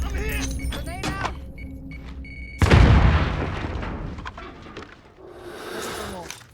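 A grenade explodes in the game Warzone Rebirth Resurgence, a sudden loud boom partway through that rumbles and decays, with gunfire and game sounds around it and a voice talking in the first seconds.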